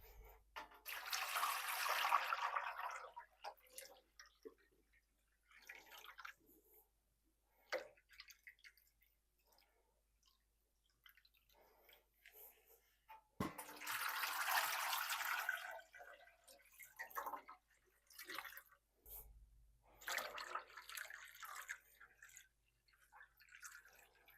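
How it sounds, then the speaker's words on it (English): Water is poured into a pan to make a double boiler. Several separate bursts of splashing and pouring stand out against near silence, with short drips and clinks between them. "let's add the water"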